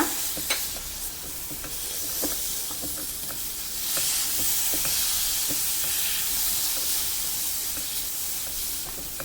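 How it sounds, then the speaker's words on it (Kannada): Semolina roasting with mashed sapota in a pan gives a soft, steady sizzle and hiss, broken by light scraping clicks of a spoon stirring, close and fairly quiet with no talking. "ಅದನ್ನು ಈಗ ಹಾಕ್ತಾ ಇದ್ದೀನಿ. ಹಾಕಿ ಸ್ವಲ್ಪ ಹುರ್ಕೊಳ್ಳೋಣ."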